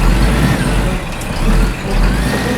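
A heavy truck rumbles loudly nearby, its low engine roar swelling and easing with a hissing, broadband noise on top.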